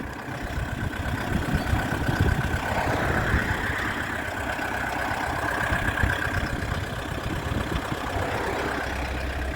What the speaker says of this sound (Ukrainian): Клокоче у нас дизелек.